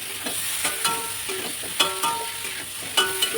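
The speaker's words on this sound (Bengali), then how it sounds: "মশলাটা আমার কষানো হয়ে গেছে এবার আমি ভেজে রাখা প্রথম আর সেদ্ধ করা আলুটা দিয়ে দেবো" Spice paste with fried and boiled potatoes is stirred in a hot pan, with an ongoing sizzle broken by a few quick, close scraping strokes of the spoon, and no one speaking.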